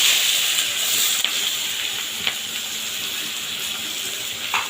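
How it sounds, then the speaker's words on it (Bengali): Black cumin and two medium onions dropped into hot oil, giving a constant bright hissing sizzle with a few faint pops, close and steady throughout, no voices. "এবারে ওই তেলের মধ্যেই ফোড়ন দিয়ে দেবো একটু কালো জিরে আর দুখানা মিডিয়াম সাইজের পেঁয়াজ"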